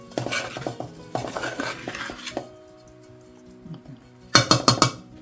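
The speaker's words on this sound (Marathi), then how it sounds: "नंतर आईने गॅसवरून खाली उतरला टोप आणि चांगला हलवून घेते." A spoon scrapes and clanks against a metal pot as a rice-flour laddu mixture is stirred, taken off the gas in a village kitchen, with bursts of rhythmic metallic knocks separated by a quiet pause.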